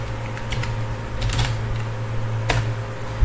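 Scattered keystrokes on a computer keyboard while a login form is filled in, a few quick clicks and taps spread over a steady background hum.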